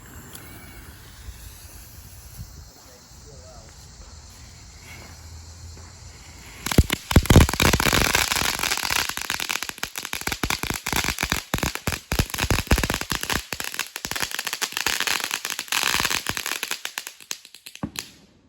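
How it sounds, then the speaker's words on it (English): Fourth of July fireworks and firecrackers sound outdoors. Quiet ambience gives way to a sudden loud burst, followed by dense, continuous crackling and popping that goes on for the rest of the clip. "There's some more fireworks going on in the background."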